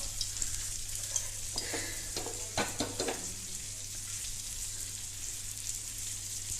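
Oil heating in a pan for a Goan tempering sizzles with a steady, bright hiss, joined midway by a few clinks and stirring sounds, close and moderately quiet.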